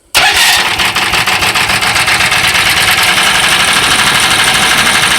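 A Club Car golf cart converted from electric to a gas engine cranks from silence and fires at once with a loud start, then settles into a steady, throbbing idle close by.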